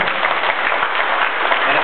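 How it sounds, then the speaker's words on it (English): Continuous crowd applause at a police and Crime Stoppers press conference launching a cash-for-guns program, a dense, even wash of clapping throughout with no pause. "let's give them a big round of applause sitting here"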